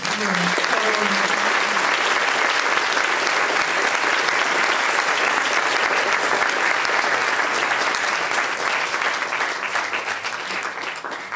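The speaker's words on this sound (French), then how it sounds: "Et puis je pense qu'on peut applaudir Monsieur Tessou." Audience applause fills the room at the close of the Biennale Nature & Paysage 2024 conference, a steady dense clapping that runs loud and unbroken for the whole stretch and eases slightly near the end.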